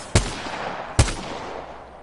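Two sharp, loud gunshots from hip-firing a gun in Apex Legends, spaced under a second apart, each with a short decaying echo and no talk.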